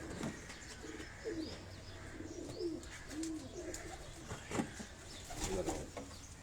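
Kasuri pigeons on a Karachi rooftop coo in soft, repeated rolling calls, with several birds close by over a quiet background and occasional brief clicks and rustles.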